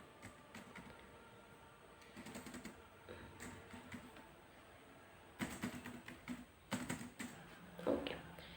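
Fingers tap out a topic on a computer keyboard in irregular, quiet bursts of clicking keys, near and alone with no talk, growing busier toward the end.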